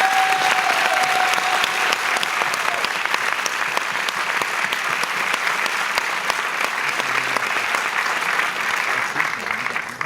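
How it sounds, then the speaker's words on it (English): A theater audience at a Paris film premiere applauds, dense sustained clapping that stays loud and even for ten seconds, with faint voices beneath. "So I think we should give them a round of applause"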